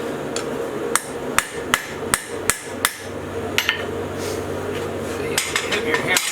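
A hammer strikes a metal marking tool into wood while a decorative plant hanger is being built, giving about a dozen sharp, close metallic taps in irregular bursts over a low background hum.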